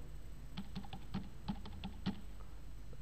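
A phone number typed on a computer keyboard, seven or eight faint, separate key taps spread unevenly over a few seconds against a quiet room hum.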